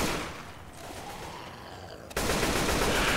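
Gunfire from the video game Left 4 Dead 2 rattles in a dense, continuous burst that swells louder in the final second, with a faint murmur of voices underneath.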